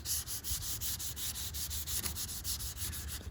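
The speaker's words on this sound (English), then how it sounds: "I want to sand around." Sandpaper rubbing over the guide-coated bodywork of a Camaro in steady back-and-forth strokes, a close, even scratchy rasp with a regular rhythm and no talk.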